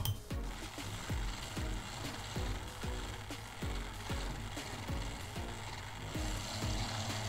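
A mini washing machine for makeup brushes and sponges spins its small drum, giving a steady mechanical rattling whir with regular clicking ratchet-like knocks, close and fairly loud, with no talk.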